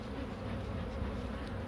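Honey bees buzz steadily around an opened hive during an inspection, a dense close drone holding at an even level throughout with no talk.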